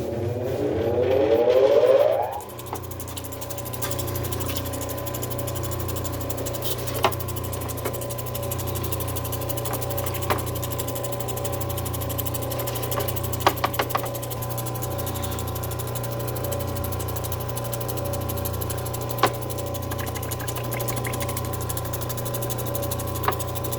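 A Genie lapidary machine polishes fire agate on a 600-grit Nova wheel, giving a steady motor hum with a constant whirring drone. A brief louder swell comes at the start, then the grinding sound runs evenly and alone.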